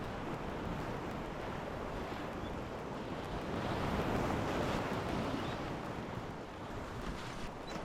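On the Middle Fork at a low 2.4-foot flow, river water rushes and swirls around a wooden sweep boat, producing a steady broad wash with wind buffeting the microphone and no speech.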